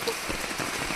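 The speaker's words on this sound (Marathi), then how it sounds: "आल्या आल्या पावसानं बघा चांगलंच आमचं स्वागत केले" Steady rain pours on a farm, a dense even hiss of drops striking surfaces and a sheet-metal shed roof, close and continuous with no voices.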